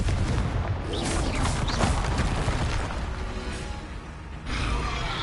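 Fire-blast spell cast in the game Hogwarts Legacy: dense booming blasts and crackling bursts fill the sound, loud and close, easing briefly before a final surge.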